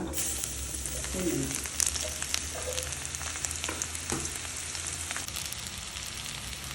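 Cumin seeds sizzle in hot oil in a kadai, a steady close frying hiss dotted with small pops and a few soft clicks, with faint voices low in the background.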